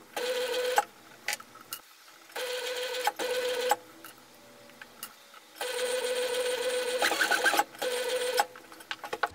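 A sewing machine stitches fabric in several bursts of rapid, mechanical whirring and clatter, separated by short pauses, near and clear.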